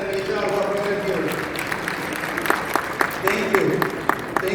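Audience at a community gala applauds presidents and HR staff, a steady wash of clapping rising with scattered louder claps, while music or voices carry underneath.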